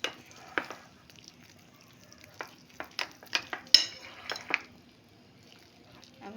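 Gram flour batter for pakoras being stirred in a bowl: soft, scattered scraping and tapping strokes with an occasional sharper clink, faint and close, with no talk.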